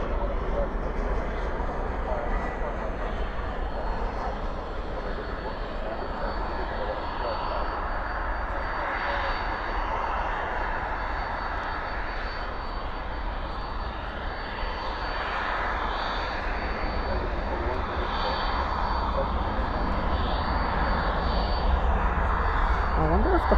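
Jet airliner engines taxiing at DFW airport at night produce a continuous loud, broad roar that holds steady throughout, with people talking faintly underneath.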